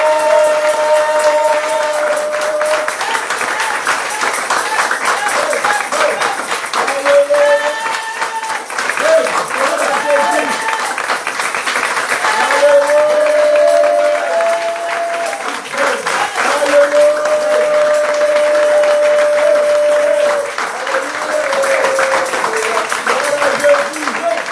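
A church congregation at a morning prayer service claps and cheers continuously, with voices singing and calling out over the steady patter of hands.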